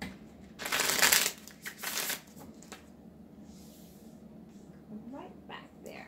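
Tarot cards are shuffled in a loud, dense riffle burst lasting about a second, followed by softer card handling and a brief second shuffle close to the listener.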